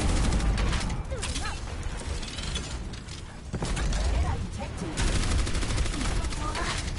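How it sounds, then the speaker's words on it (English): Rapid, sustained fire from a hero's weapon in Overwatch, a dense rattling stream of shots with mechanical whirring that runs throughout, dipping briefly midway before resuming at full intensity. "Her gun sounds awesome."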